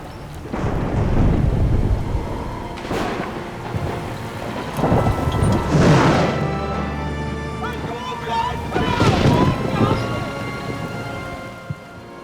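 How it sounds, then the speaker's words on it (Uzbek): A heavy thunderstorm over a lake, with rain pouring steadily and repeated close rolls of thunder that swell and fade several times across the stretch. "Qattiq bo'ron chiqib, ko'lda do'lqin ko'tarilayotdi."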